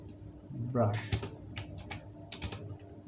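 Keys clatter on a computer keyboard in short bursts while someone talks over the typing, the clicks close and fairly quiet.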